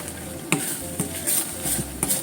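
A spoon stirs miso-coated green peppers in a pan over medium heat, scraping and clinking against the pan in a steady back-and-forth rhythm over a soft sizzle, close and moderately loud.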